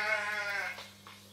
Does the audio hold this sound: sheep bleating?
yes